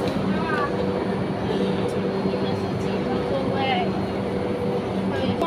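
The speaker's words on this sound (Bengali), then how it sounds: "এই যে ট্রেন" Train arriving at Shenzhen railway station, a steady rumble and hum with faint squeals, under a voice talking throughout.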